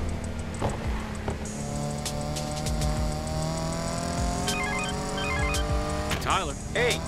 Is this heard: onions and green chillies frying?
no